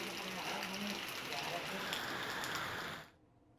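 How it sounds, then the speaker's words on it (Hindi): Steady continuous rain falling in the hilly areas of Uttarakhand, a dense soft patter that holds evenly for three seconds and then drops away abruptly. "ये देख सकते हैं पहाड़ी इलाकों में लगातार बारिश हो रही है"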